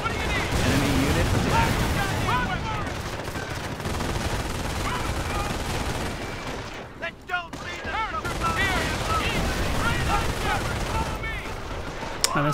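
Anti-tank PaK gun firing amid dense World War II battle noise in Company of Heroes, with machine-gun chatter and explosions continuing throughout and brief voices heard over the din.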